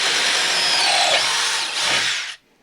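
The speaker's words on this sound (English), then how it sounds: "doing a baseline here with the 12 volt extreme, 3/8 inch twist bit, going through a 2x4" DeWalt 12 volt Xtreme drill boring a 3/8 inch twist bit through a 2x4, a loud close whine that holds steady for over two seconds, dips briefly, then cuts off abruptly.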